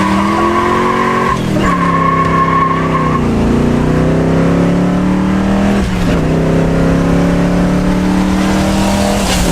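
A sleeper station wagon revived from parked to daily driver revs hard and accelerates nearby, its engine note climbing through gears with tire squeal and skidding, loud and continuous.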